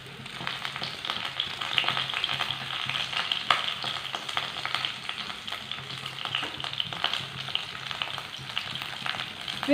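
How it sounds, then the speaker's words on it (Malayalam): Onion and green chilli sautéing in a pan give a continuous, even crackling sizzle close by, with light stirring scrapes, no talking and a steady level throughout. "ഇത് നന്നായിട്ടൊന്ന് വഴറ്റിയെടുക്കാം."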